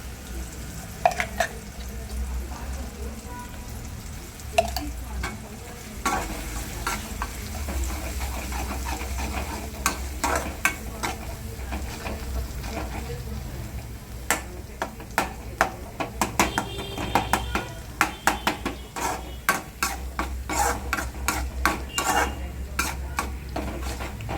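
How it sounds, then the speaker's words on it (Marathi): Ground green masala paste roasts and sizzles in a pan for a chicken masala. A steady frying hiss runs under frequent metallic scrapes and clinks of a spoon stirring against the pan, growing busier toward the end, with no talking. "ग्रीन मसाला आणि त्याला पण आपण भाजून घेणार आहोत"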